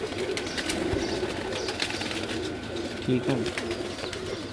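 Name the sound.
pigeons cooing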